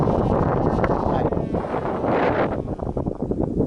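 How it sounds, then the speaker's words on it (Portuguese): Strong wind buffets a microphone outdoors on a morning at an electric flying-wing model flight, a loud continuous roar that gusts and dips, with no talk over it. "Ventando bastante, o vento bate na lateral dele."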